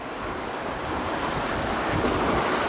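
Strong wind of more than 20 knots roars past the microphone as waves rush and slap against the hull of an Excess 11 catamaran under sail, a continuous loud wash with no talking.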